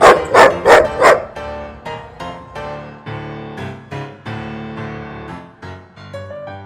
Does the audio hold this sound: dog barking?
yes